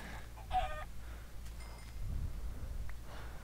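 A chicken in the video game Minecraft clucks a few times against a low background rumble, fairly quiet, with short scattered calls.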